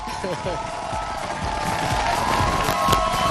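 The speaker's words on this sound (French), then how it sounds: "On applaudit bien fort" An audience applauds and cheers for pastor Jean-Baptiste Soumbela as he is welcomed on stage, with continuous clapping and crowd noise under a speaking voice.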